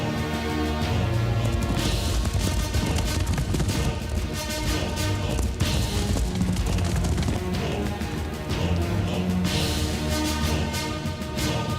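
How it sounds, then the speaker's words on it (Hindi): Dense, continuous battle noise in a Hindi film scene, with bursts of enemy soldiers' gunfire and crashing impacts under a loud, layered score, filling the whole stretch without pause. "दुश्मन के सैनिक बंदूकों से गोली चला रहे थे।"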